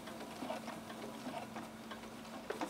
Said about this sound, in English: now we're just going to sew along to the chalk line